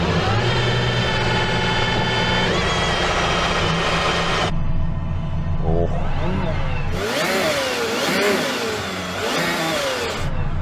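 A powerful car engine fires up and revs hard, its roar rising and falling in loud sweeping bursts, with a voice briefly heard underneath.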